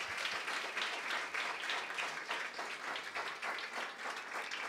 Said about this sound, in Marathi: आमच्या देवासाठी एकदा टाळ्या वाजवूयात.